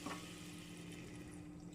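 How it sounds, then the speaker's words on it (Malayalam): Boiling water is poured into a pan of potato and cauliflower for aloo gobi, making a brief, steady, close rushing pour. "ഇവിടെ തിളച്ച വെള്ളം തന്നെയാണ് ഒഴിച്ചു കൊടുക്കുന്നത്."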